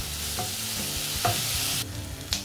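Onion and garlic frying in a small amount of oil in a pan, a steady close sizzle with a few clinks of a utensil stirring, no talking.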